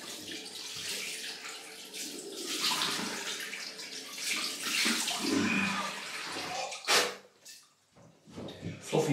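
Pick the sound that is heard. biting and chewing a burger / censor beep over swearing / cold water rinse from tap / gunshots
cold water rinse from tap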